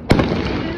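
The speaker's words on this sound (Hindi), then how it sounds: "ये बजा रहे हैं पटाखे" A firecracker bursts with one loud, sharp crack during a Diwali celebration with family, followed by a crackling, sputtering tail and lingering outdoor noise.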